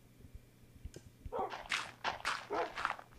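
Minecraft dogs barking in a burst of several quick, fairly faint yaps at a distance, following a few soft clicks.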